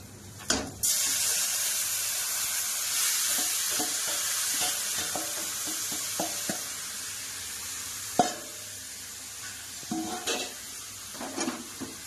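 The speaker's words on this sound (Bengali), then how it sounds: "এই ম্যারিনেট করা মটনটা, এটা এবার পেঁয়াজটা ব্রাউন হয়ে গেছে, এবার মটনটা ঢেলে দিন কড়াইতে" Marinated mutton tipped into a kadai of browned onions, setting off a loud, steady sizzle with intermittent scraping and clatter of stirring, no talk.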